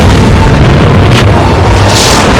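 A loud, continuous deep boom with a rumbling roar, like a bomb detonating in the air, filling the whole stretch with dense low-end energy and a couple of brief hissing bursts on top.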